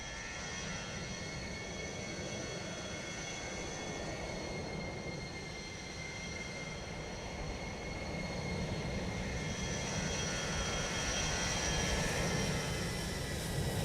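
Simulated aircraft engines roar steadily during takeoff in Microsoft Flight Simulator, a continuous jet drone with high whining tones that grows slightly louder toward the end, with no talking.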